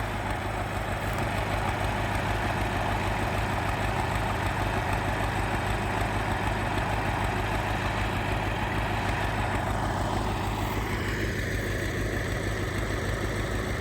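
A YUMZ tractor with a PRT-7 front-mounted manure spreader idles in a field, giving a steady, close, low mechanical rumble that runs unchanged throughout with no talk.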